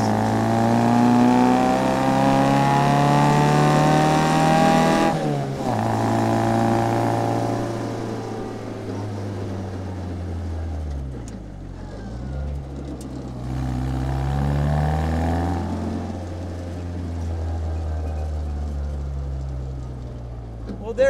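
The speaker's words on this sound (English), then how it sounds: "That was your ride along in a 1960 Bugeye Sprite." A 1960 Austin-Healey Bugeye Sprite engine drones loudly from inside the car on a ride along, its pitch climbing and falling through gear changes and revs, with a sharp shift near the start and a dip in the middle.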